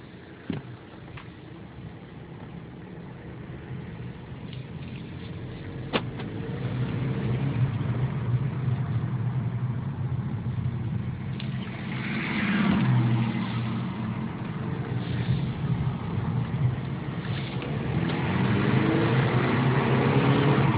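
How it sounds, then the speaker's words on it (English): A 2012 VW Passat TDI SE diesel sedan is driving with the window down, giving a steady, moderate road and engine drone with some swelling passages that suggest acceleration and no voices. "going to turn the air conditioner off and the window down just so you can see or hear how this sounds like a normal car"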